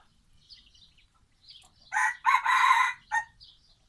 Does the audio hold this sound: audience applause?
no